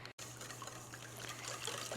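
Milk poured into a container gives a soft, continuous trickle and fill, faint and close over a low steady hum, after a brief cut at the start.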